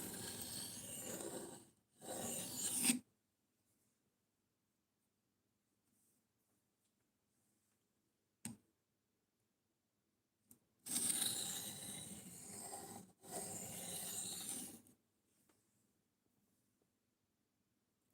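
A knife is sharpened in short raspy strokes, a few close, grinding bursts separated by silent pauses.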